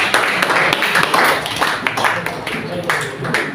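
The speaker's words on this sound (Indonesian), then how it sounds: "kita berikan tepuk tangan dulu" A classroom of students claps together in a short, uneven burst, with individual hand claps audible close by and voices mixed in.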